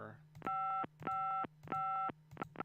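In the Gabriel Knight: Sins of the Fathers adventure game, a telephone call tone sounds as three evenly spaced ringing bursts, with a fourth starting at the end, loud and clear over a low background hum.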